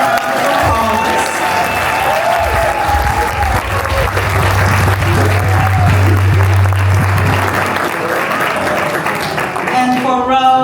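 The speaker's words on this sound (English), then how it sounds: "So if you all can give Rose another round of applause." Loud applause from a large crowd at a breast cancer event fills the room, mixed with a low steady hum and some tonal background sound, continuing throughout.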